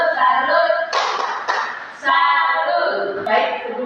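A class gives its teacher a salute clap, with bursts of group clapping mixed with students chanting in unison inside a classroom.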